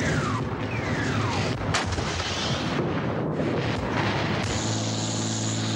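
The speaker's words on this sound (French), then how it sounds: "Un barrage d'artillerie de dingue nous tombe dessus." Heavy artillery barrage during the 1982 Lebanon war, a dense continuous roar of explosions and booming fire that fills the whole clip without any talk.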